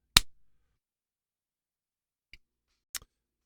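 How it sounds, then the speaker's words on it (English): Snare hits from a beat-making session, three isolated sharp cracks spaced far apart: one loud snap at the start, a faint tick near the middle, and a crisp hit near the end, alone with no talk. "Those are some nice sounding snares, man."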